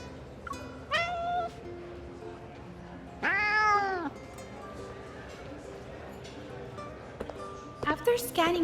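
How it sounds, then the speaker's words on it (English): Cat meows from the Love and Deepspace video game, a few clear rising and falling cries, one long and loud in the middle, with quieter game ambience between them. "I follow the sound to find Xavier behind a cat tree, confronting an unfamiliar kitty."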